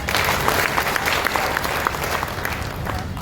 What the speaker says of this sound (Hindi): आप लोग अपने लिए एक बार जोरदार ताली बजाइए